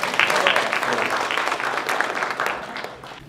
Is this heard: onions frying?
no